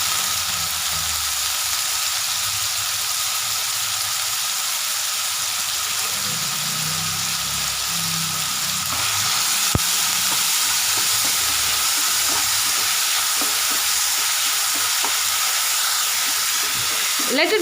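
Tomatoes and curry leaves sizzle in a hot pan, a steady hissing fry throughout with a burst of louder crackling partway through and faint voice in the background.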